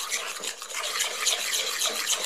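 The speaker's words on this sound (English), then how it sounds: "we're going to give that a good stir through. You can use a whisk or just a spoon as I like to do" A spoon stirs a tiramisu mixture in a bowl, giving soft continuous wet scraping and swishing close up, steady and fairly quiet with no talking.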